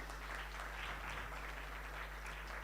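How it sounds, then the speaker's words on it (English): Audience applause at a gala awards ceremony in Kenya for young innovators, a steady, fairly faint wash of clapping over a constant low electrical hum, with no voices over it. "Yes, you can clap for them."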